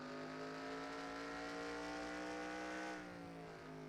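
A stock race car in a racing video game, lapping the Charlotte Roval, drones steadily off the throttle into a right-hand corner, its engine note sliding gently lower and easing off near the end, with no voices.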